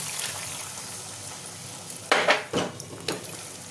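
Coconut milk poured into frying masala for Bengali katla fish curry, with soft background sizzle and a few sharp clattering scrapes of a spoon stirring in the pan.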